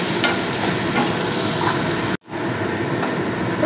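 Prawn curry masala fries in a pan after sugar is stirred in, a dense steady sizzle close by that cuts out abruptly for a split second midway, then resumes at the same level.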